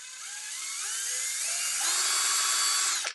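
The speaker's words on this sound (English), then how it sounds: "About there, it starts to activate the drill. And this is also variable speed." An Altocraft 12V compact cordless drill/driver spins up under a variable-speed trigger, its motor whine climbing in steps to full speed, holding high and loud, then cutting off abruptly on release.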